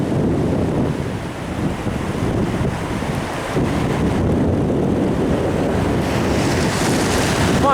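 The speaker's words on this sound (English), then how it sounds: "Run out into the waves." Ocean waves break and wash ashore at La Jolla beach in California, a continuous loud roar of surf with heavy wind buffeting the microphone throughout.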